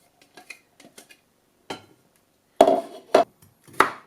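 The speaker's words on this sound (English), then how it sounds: "I'm just chopping the zucchini up so it's small enough to dice and mince" A knife taps against a board in scattered light chops while cutting zucchini, building to a few louder, sharper thuds toward the end.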